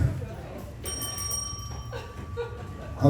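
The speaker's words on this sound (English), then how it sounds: "They brought their own bell." A bicycle-style bell rings with a bright, sustained metallic tone over a noisy crowd at an improv comedy show, fading slowly.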